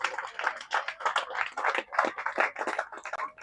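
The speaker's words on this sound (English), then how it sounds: "Let's give him a big round of applause." Applause from a conference audience for a panelist being introduced, a dense steady patter of many hands clapping throughout at moderate loudness.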